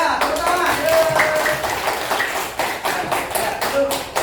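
A classroom group claps hands after a student's answer, a dense burst of overlapping claps throughout with some faint voices mixed in.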